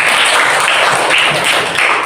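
A junior high school class in an Islamic Qur'an and Hadith lesson claps together, a short dense burst of applause heard close.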